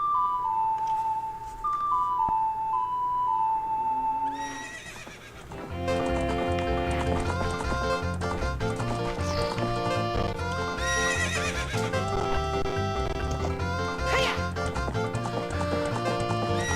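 A horse in the video game The Legend of Zelda: Ocarina of Time gives a loud synthesized neigh, then clip-clop hoofbeats carry under bright, busy game music that plays continuously to the end.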